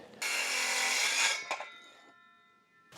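A power saw rips loudly through a wooden floor joist for about a second, then spins down, its whine fading with a few faint clicks and knocks during floor framing for a 20 by 30 shop.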